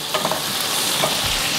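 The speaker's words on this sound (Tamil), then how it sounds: "இப்போ வெங்காயம் வந்து நல்லா வதங்கிடுச்சு" Onions and tomatoes sizzling and frying in a pan, a steady crackling hiss with a brief scrape of stirring.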